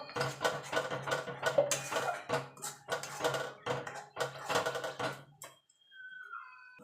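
Spinach paste and prawns are stirred in a pan with a utensil, giving a run of quick clattering scrapes and knocks in uneven bursts that stop abruptly, leaving a faint tone before the end.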